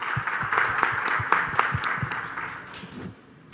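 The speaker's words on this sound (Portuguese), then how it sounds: "Uma salva de palmas." Audience applause at an international forum, a steady wash of clapping from a seated crowd that rises, holds, then tapers off and fades near the end.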